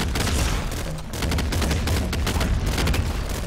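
A grenade launcher fires in the video game Nuclear Throne, setting off a dense barrage of loud, overlapping explosive bursts and booms that continue without a break.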